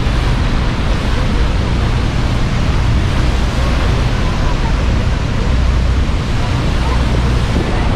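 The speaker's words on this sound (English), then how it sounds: "I feel the wind." A tour boat on the river near Niagara Falls runs through heavy wind, a loud, unbroken roar of wind buffeting the microphone mixed with rushing water from the rapids, steady throughout without pauses.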